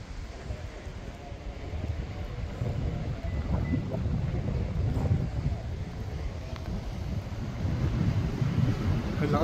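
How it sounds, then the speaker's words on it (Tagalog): Strong wind at an abandoned ski resort in Japan. It blows as a continuous low rumbling roar with microphone buffeting, steady and loud for the whole stretch, and faint voices sit underneath. "Ang lakas pa ng hangin."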